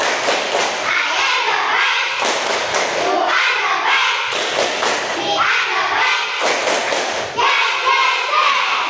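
A classroom of children repeats a rhythmic clapping ice-breaker, crisp unison claps falling in patterned bursts, alternating with energetic group chanting close by.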